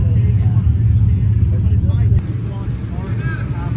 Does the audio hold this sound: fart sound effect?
no